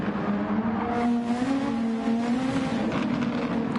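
Ferrari race car in a Formula racing video game, engine droning steadily and rising slightly in pitch as the car slides hard through a corner, with faint tire scrub underneath.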